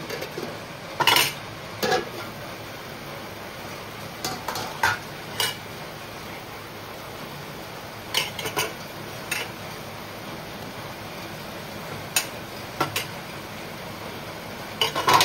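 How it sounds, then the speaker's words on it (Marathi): Stirring fenugreek leaf stir fry with freshly grated coconut in a pan, heard as scattered sharp spoon-on-pan clinks and scrapes in small bursts, spaced a few seconds apart over a quiet background. "व्यवस्थित मिक्स करून घेऊ।"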